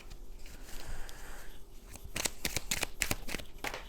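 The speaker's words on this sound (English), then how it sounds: "Let's try to pull more cards." Tarot cards are shuffled and pulled close up, soft riffling and papery slaps building into a quick series of crisp flicks toward the end, quiet and without talk.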